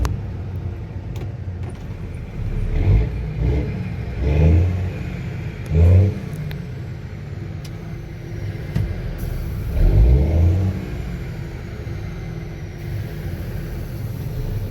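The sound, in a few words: Cummins N14 diesel truck engine running and revving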